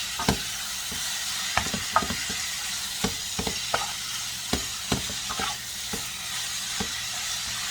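Thin-sliced Philly cheesesteak beef sizzles steadily in a hot pan, with sharp scraping stirs and clacks of a utensil breaking through the constant frying hiss, close up.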